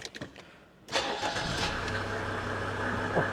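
A Mercedes-Benz W124 car engine cranks and catches after a brief pause, then settles into a steady idle that continues to the end.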